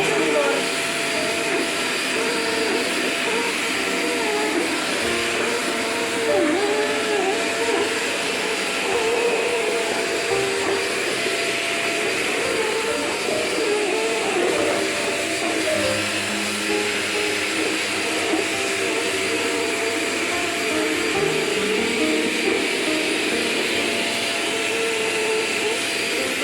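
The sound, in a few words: Potli Forzaspira vacuum cleaner running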